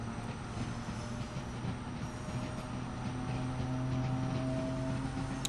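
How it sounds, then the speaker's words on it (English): A train rolls along the West Coast Main Line between Crewe and Carlisle in Train Sim World 6, a steady, fairly quiet rumble with a faint high whine and constant low hum throughout. "I just love the way this fucking train sounds."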